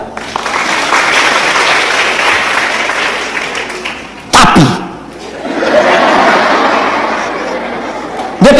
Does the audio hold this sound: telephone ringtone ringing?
no